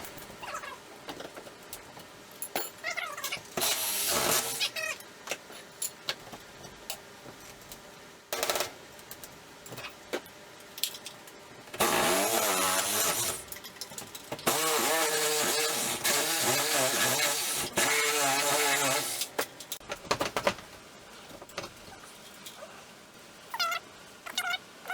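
A Sawzall reciprocating saw cuts a pull-down attic stair free through nailed framing, coming in loud, harsh bursts of rapid buzzing with short pauses between cuts.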